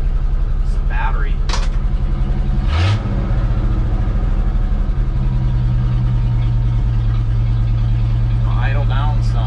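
An old cabover truck engine idles loudly and steadily up close, dropping from a higher idle to a lower steady rumble partway through, while people talk over it.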